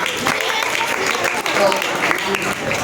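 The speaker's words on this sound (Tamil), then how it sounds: "நல்ல ஒரு கைத்தட்டல் கொடுத்துடலாமா?" A crowd gives a round of clapping, dense and steady throughout, with a voice speaking over it.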